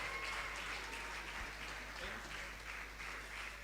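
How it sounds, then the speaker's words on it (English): Audience clapping at a university entrepreneurship event, faint and distant over a low steady hum, the applause holding evenly across the whole stretch. "Please, can we give them a lovely round of applause?"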